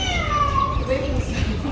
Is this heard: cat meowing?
yes